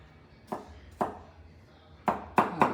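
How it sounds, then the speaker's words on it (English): Kitchen knife chopping beef finely on a cutting board for black pepper beef stir fry: five sharp, separate chops, two spaced a half-second apart, then three in quicker succession, close and fairly loud. "sliced up, finely chopped"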